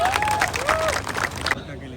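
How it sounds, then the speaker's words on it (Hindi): An audience at a live event show in Lucknow claps and cheers loudly, with a crowd roar, whistles and a voice over it, ending abruptly after two seconds. "प्रियांशु सिंह के लिए मैं चाहूंगा कि एक जोरदार ताली हो जाए।"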